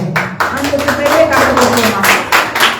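Congregation clapping in praise during a bilingual church sermon, a short burst of hand claps mixed with a speaking voice close by.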